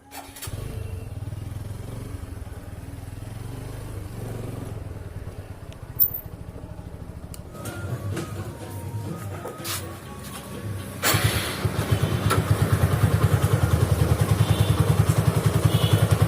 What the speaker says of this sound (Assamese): বাইকখনৰ চেণ্ডেল বহুত মাত দিছে